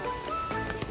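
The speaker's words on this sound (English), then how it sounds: "So it's raining." Steady rain falls outdoors after a long drive, a continuous close hiss of drops on surfaces with a few slightly louder patters, no voices.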